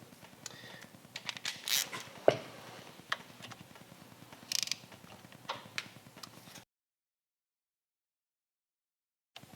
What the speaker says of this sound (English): go ahead and take our screws off that hold the unit on